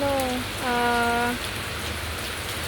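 Steady rain falling on surfaces, a constant hiss with a brief tonal sound near the start, no talking.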